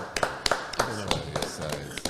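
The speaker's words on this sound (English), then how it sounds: "let's give them a round of applause" A small group claps for a crew in a casual studio setting, a short patter of scattered, uneven hand claps, fairly quiet, with a voice murmuring beneath.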